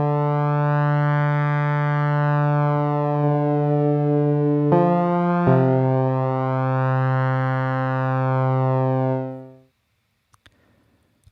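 A sustained tone from Ableton's Wavetable synth with chorus, a steady held note that slowly swells and sweeps, shifts pitch midway, then cuts off into near silence at the end; no talking.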